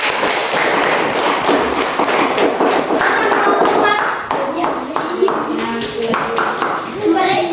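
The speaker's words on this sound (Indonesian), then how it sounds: "kasih tepuk tangan dulu untuk kelompok ini" Classroom applause for a student group during a school lesson, with quick scattered claps and taps, while children's voices and chatter run beneath and continue as the clapping thins.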